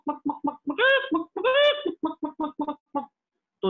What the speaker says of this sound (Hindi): जो मुर्गी है वो काफी परेशान है, तो किस तरह से खाना ले रही है